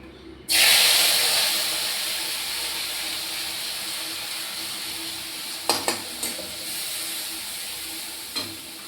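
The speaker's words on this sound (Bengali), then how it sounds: "এবারে আমি তেলে একটু জিরে ফোড়ন দিয়েছি। এখানে আমি পেঁয়াজ আর একটা টমেটো বেটে নিয়েছি, এটা এবার আমি দিয়ে দেবো।" Ground onion and tomato paste hits hot oil tempered with cumin seeds, bursting into a sudden loud sizzle that slowly eases, followed later by a few brief clinks of stirring.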